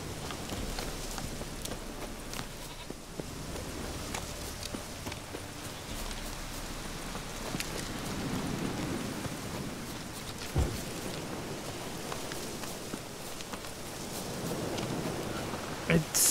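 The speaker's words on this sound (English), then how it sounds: "Looks like rain." Rain in the video game The Witcher 3, a steady hiss of falling rain across the whole stretch, with a brief louder knock midway and faint game sounds beneath.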